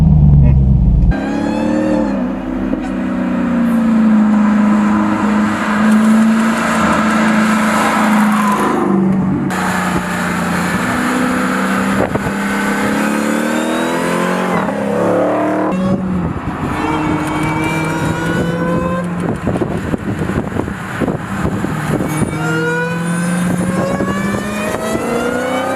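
A 2016 Dodge Challenger SRT Hellcat's supercharged engine roars loudly through repeated paddle-shifted gears, each rising rev sweep cut by a brief dip at the shift, close and continuous over many seconds.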